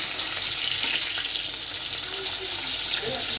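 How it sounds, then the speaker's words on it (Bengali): Fish frying in a home kitchen pan, a loud, dense, steady sizzle that runs without a break, close up and alone. "মাছ ভাজা প্রায় হয়ে আসছে, এখন নামিয়ে নেব।"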